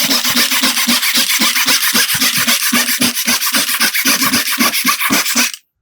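Hand saw cutting through wood in an old-fashioned chop box, with steady back-and-forth rasping strokes, loud and close, ending abruptly after about five and a half seconds.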